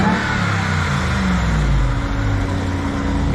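Engine of a 6.2-liter Shelby truck revving nearby, a steady loud mechanical drone with a rising, whining tone that swells mid-clip and holds without any talk.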